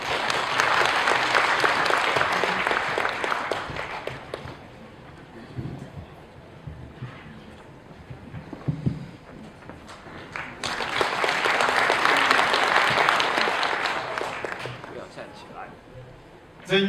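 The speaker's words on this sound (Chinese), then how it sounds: "掌声有请。" An audience at a Swedish-Chinese cultural gala breaks into sustained applause, dies down to quiet murmuring, then swells into a second long round of clapping. A microphone picks it up at a moderate distance.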